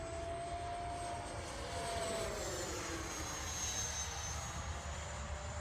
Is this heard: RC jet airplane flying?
yes